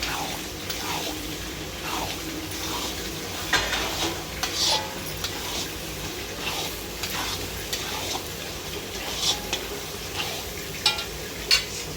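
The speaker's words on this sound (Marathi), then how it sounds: "त्याला छान एकत्र मिक्स करून घ्यायचं।" Coriander powder and turmeric being stirred into a paneer mixture frying in a pan: steady sizzle with repeated scraping strokes of a spoon, close and continuous, no talking.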